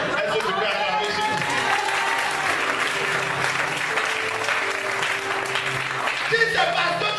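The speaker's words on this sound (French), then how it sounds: "Est-ce que tu peux acclamer ici?" Congregation at a French-language church service applauding and cheering, a steady dense wash of clapping and crowd noise that holds for the whole stretch, with a voice speaking over it.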